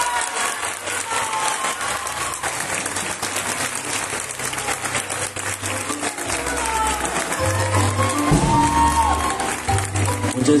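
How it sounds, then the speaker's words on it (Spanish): Sustained applause from a crowd at the Flor de la Feria de Concepción pageant coronation, a dense steady clatter of clapping lasting throughout and swelling louder toward the end, with low rumble beneath. "quiero que le brinden fuertes aplausos a Santa Gertrudis Sabán Chacar"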